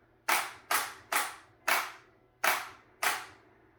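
Six sharp snapping bangs from the trigger of a Duck Hunt arcade lightgun with recoil, each a crisp close report fading quickly, fired at an uneven rhythm about half a second apart.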